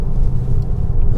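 An armored 2022 Mercedes S680 Guard V12 cornering with understeer gives a steady, loud low rumble from engine and road, close up and with no voices.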